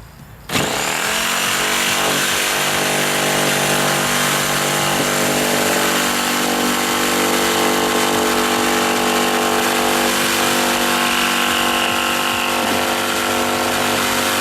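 A power tool cutting around a camper access door opening, running loud and steady with a constant whining buzz after a brief quiet start, close up with no talking.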